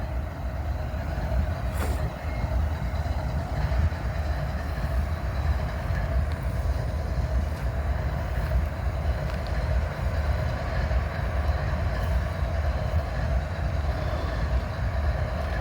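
Trains at a train meet in Abbeville, a steady rumble of idling locomotives heard from nearby, continuous and even in loudness with no speech.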